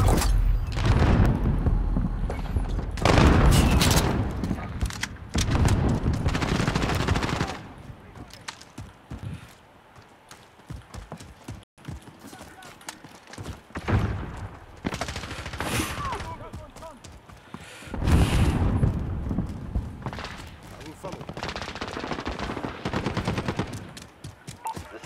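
Gunfire in a Call of Duty team deathmatch comes in loud bursts that alternate with quieter stretches of footsteps and movement. Brief voice callouts are heard under the shooting.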